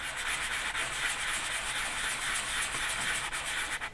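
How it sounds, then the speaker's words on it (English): An avocado pit being shaped into a button is sanded with a steady, close, unbroken scratchy rubbing that carries on alone for several seconds. "I continue sanding down the avocado button until I'm happy with the finish."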